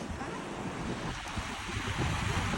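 Ocean waves at Sydney Harbour wash in a steady, loud surf roar mixed with gusty wind buffeting the microphone, with no voices over it.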